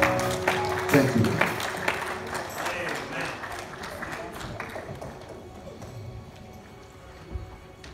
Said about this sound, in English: Y'all ought to be clapping for this choir.